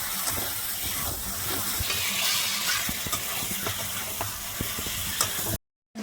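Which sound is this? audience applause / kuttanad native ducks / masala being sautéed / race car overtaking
masala being sautéed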